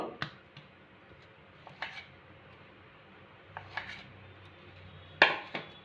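A spoon spreading mashed potato across a wheat-flour roti: faint scraping and soft rubbing, punctuated by a few light clicks and taps of metal on a plate, quiet and close, with a sharper clink near the end.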